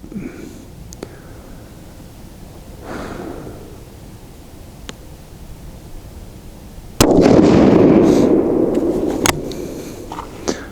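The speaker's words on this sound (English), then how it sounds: "But let's shoot this group and see what we get." A TC Compass rifle fires a Hornady 168-grain Z-Max load in one sharp, loud shot followed by a rolling outdoor echo, preceded by faint clicks and handling noises.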